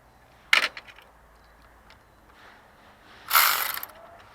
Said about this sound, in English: now we can go ahead and start tightening the belt